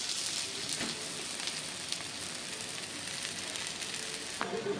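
Rava uttapam frying in a pan over a medium flame, a continuous soft sizzle with crackly spits and a few sharper pops, close and steady with no talking.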